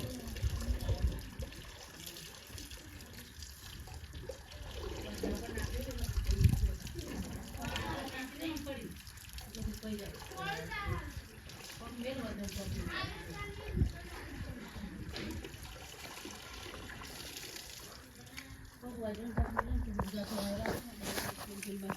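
Cold water flows and splashes steadily nearby on a farm while people talk over it throughout.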